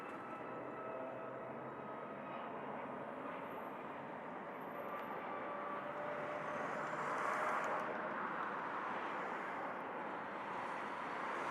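An airliner comes in to land at Montego Bay Airport in Jamaica. Its broad jet roar stays loud and steady, swells a little near the middle and holds to the end.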